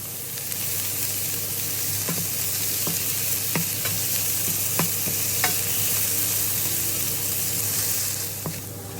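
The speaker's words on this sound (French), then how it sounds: "je vais ajouter les échalotes." Shallots sizzling in a pan alongside morels, a steady close frying hiss with a low hum underneath and scattered light clicks and scrapes of stirring, no voices.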